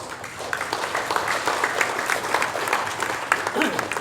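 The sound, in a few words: applause for His Majesty at a gala dinner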